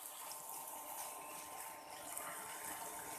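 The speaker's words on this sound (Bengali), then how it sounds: "এর মধ্যে জল দিয়ে দেব" Water pours steadily into a pan of Bengali rohu fish curry with pointed gourd. The low, continuous splashing gush stays fairly faint and even, with no talking.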